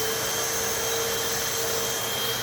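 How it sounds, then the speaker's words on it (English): A Hoover PetMax Complete vacuum cleaner runs steadily at close range, a loud, even motor whine with a high tonal hum over broadband airflow noise, sustained without a break and with no talking. "here comes the Hoover PetMax Complete in 3,"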